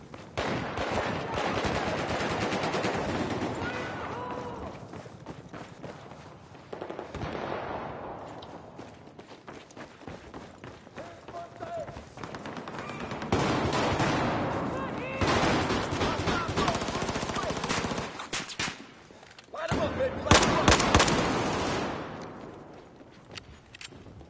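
Rapid bursts of gunfire from a 16-round weapon in Battlefield 4, loud and dense, come in several volleys separated by short lulls, with game noise in the background.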